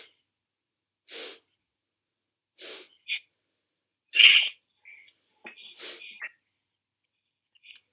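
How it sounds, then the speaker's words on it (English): Forceful breaths out repeated about six times in a quiet room, each a short, sharp, close exhalation separated by silent pauses of uneven length. "We're just breathing out 6 times."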